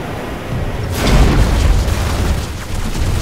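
A heavy boom from a vehicle terminal being destroyed in an online shooter game. It hits about a second in and rolls into a sustained, loud rumble.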